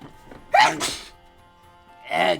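A person lets out a single sharp, fairly loud sneeze, followed a moment later by a brief burst of voice.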